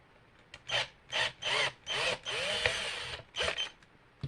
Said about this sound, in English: I do have to drill out these two holes a little bit deeper